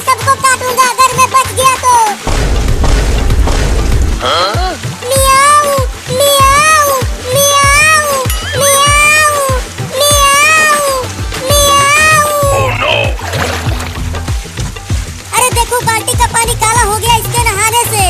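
A voice imitates a cat's repeated meowing in a comedy sketch, heard as a series of rhythmic, pitched mews with music-like tones underneath, loud and close.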